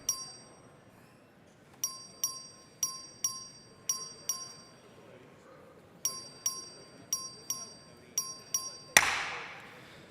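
In a legislative chamber, a clerk rings the voting bell as a run of clear, bright single dings in two bursts, each ringing out over a quiet room before a louder clash ends it.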